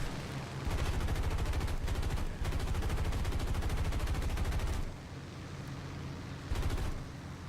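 Machine guns fired by aircraft gunners in War Thunder, on a PBY flying boat, rattling in long sustained bursts with short pauses between them, loud and continuous over engine drone.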